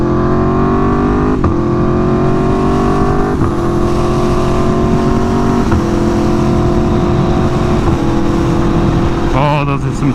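An Aprilia Tuono motorcycle engine revs up loudly and continuously, its pitch climbing and then dropping sharply at each of several quick gear shifts spaced a couple of seconds apart.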